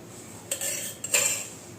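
A spoon works oil into flour in a bowl for madatha kaja dough, giving two short bursts of scraping and clinking against the bowl, close and fairly quiet with no voice.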